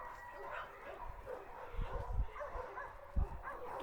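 Dogs bark and yip at an animal shelter's outdoor play yard, several muffled barks in scattered bursts at moderate distance over a low background rumble, with no nearby speech.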